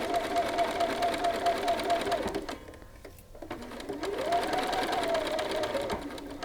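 A sewing machine stitches a shirt cuff in two short bursts of rapid mechanical whirring separated by a brief pause, fairly quiet and close, with a voice speaking over it.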